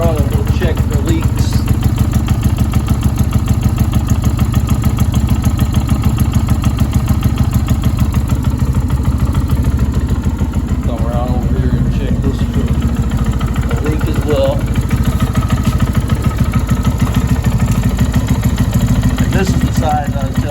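A Lifan KPR 200 motorcycle engine idles steadily and close by during an oil change, a continuous low rumble running unbroken throughout.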